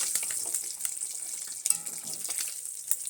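Small puti fish frying in oil in a pan, a steady close sizzle with scattered crackles and brief louder pops, no voices over it.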